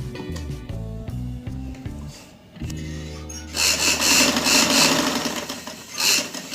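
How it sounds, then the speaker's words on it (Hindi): A sewing machine stitches a dress neckline, its motor running in short rhythmic bursts before a longer, louder continuous run of stitching. "नीचे से रख के ना इसको सिलाई लगानी शुरू करनी है।"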